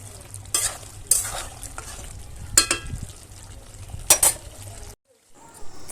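Tomatoes and green chillies fry in a pan for a country chicken curry: a steady close sizzle with four sharp bursts of stirring and utensil scrapes, cutting off abruptly near the end before a faint return.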